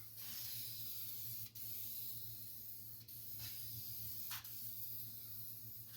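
A spray gun lays cheap sandable primer as a guide coat on the roof of a 1956 Fargo panel truck: a steady, fairly quiet airy hiss with a low hum beneath and a few brief sharper bursts.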